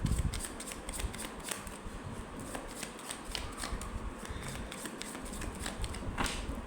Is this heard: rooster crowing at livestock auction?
no